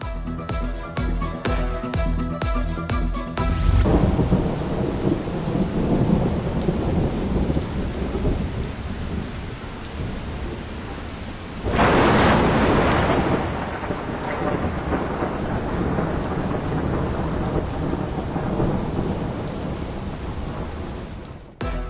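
Heavy monsoon rain pours down steadily over Karachi, a dense and loud hiss that never lets up. A sharp crack of thunder breaks in near the middle, then a rolling rumble follows under the downpour.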